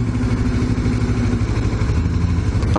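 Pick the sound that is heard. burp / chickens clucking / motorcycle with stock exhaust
motorcycle with stock exhaust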